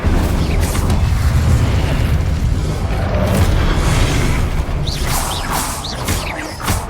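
A fire spell cast in the video game Hogwarts Legacy, a loud, sustained roaring whoosh of flame with booming bursts and crackling. It runs continuously through the clip, with a few whistling effects near the end.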